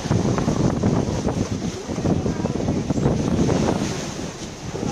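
Strong wind buffets the microphone while heavy Pacific Ocean waves surge and crash in a loud, continuous roar, with no pause throughout.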